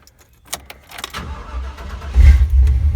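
A cold Chevrolet C1500 pickup truck cranks briefly, with a few clicks first, then catches and its engine rumbles to life, settling into a loud, close idle.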